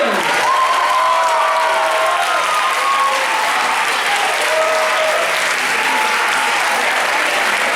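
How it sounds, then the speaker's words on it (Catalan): Steady applause from a crowd at a school theatre showcase in Llinars del Vallès fills the room, sustained and fairly loud throughout, with a few faint voices calling out beneath the clapping. "Fort aplaudiment per l'Institut Can Record"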